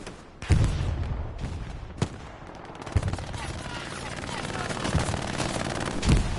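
Machine gun fire in Hell Let Loose, with sharp shots and short bursts cracking every second or so over a dense battlefield din, with someone talking over it.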